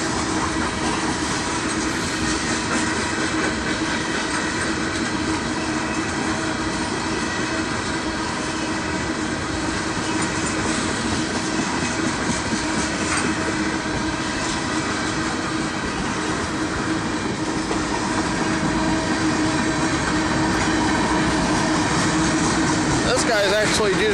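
Canadian National freight train 2268 rolling through a crossing in Effingham, Illinois, a loud, continuous roar of wheels and cars passing close by for the whole stretch, with a squeal near the end.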